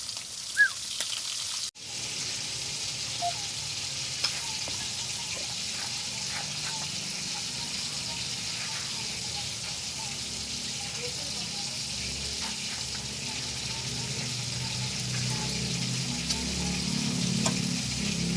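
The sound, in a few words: pork steak frying in a pan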